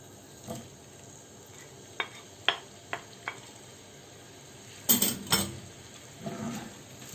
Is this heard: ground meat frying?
yes